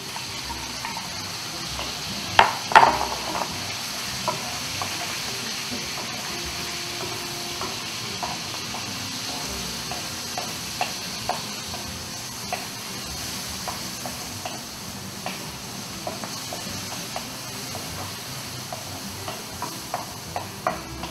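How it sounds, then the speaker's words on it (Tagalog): Sliced pork loin seasoned with salt and pepper stir fried in a hot pan, a steady soft sizzle with scattered spatula clicks and scrapes, one sharper clatter early on, close and without talk. "stir fry quickly until it changes color"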